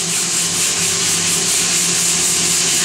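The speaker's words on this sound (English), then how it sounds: "A lot of hand sanding being done" Steady, continuous abrasive rubbing of hand sanding on a car body panel, a dense broadband scratch with no pauses, close and fairly loud throughout.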